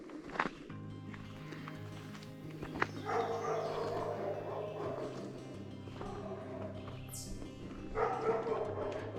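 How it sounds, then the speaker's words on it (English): Two neighbor's dogs bark repeatedly from next door outdoors, a run of moderately distant barks and yips over a steady background hum. "Dogs next door, the neighbors, 2 of them. They like to be very vocal."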